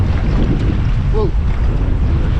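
Strong wind and rough open water surround a paddler crossing a large lake at night in high winds, a constant close rushing roar with a brief faint chirp partway through.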